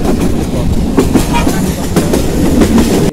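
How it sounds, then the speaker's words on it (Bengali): A train runs along the rails in a loud, continuous rumble with rhythmic clickety-clack of the wheels, heard close from on board, with no clear talking. "এরপরে আবার ট্রেন ছাড়া আরম্ভ করছে, আস্তে আস্তে ট্রেনের গতি যার"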